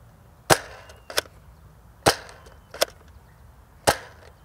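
A Nerf N-Strike Elite Dual-Strike blaster fires Mega darts outdoors. Five sharp, close snapping shots come at uneven intervals of roughly a second, each with a quick decay and quiet gaps between them.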